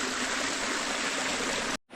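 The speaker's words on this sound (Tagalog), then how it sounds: "Maganda ang release ng tubig." Water is released and rushes in a steady, loud stream near a garden plot, continuous broadband flow that cuts off abruptly at the end, with no voices.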